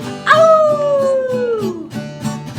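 A voice imitates an old coyote's howl in a children's song: one long, close howl that rises sharply and then slides slowly down, over a steady rhythmic musical backing.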